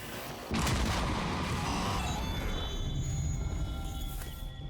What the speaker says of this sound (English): We hear live fire.